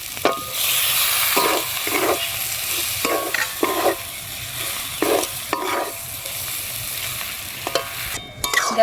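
Pointed gourd (potol) stir-fried with Gobindobhog rice in a pan gives a steady sizzle, broken by repeated scraping stirs at an uneven rhythm. It is close and fairly loud, and no one speaks.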